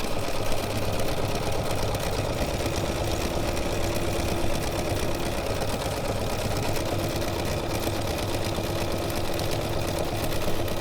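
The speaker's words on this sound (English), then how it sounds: "So that sewing machine needle is going to put a hole in the card." A sewing machine stitching through card runs continuously with a steady fast mechanical whir and rapid needle chatter, loud and close, with no voices.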